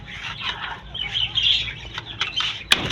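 Chickens cluck and chatter in the background, a busy, continuous flock sound with a sharper squawk near the end.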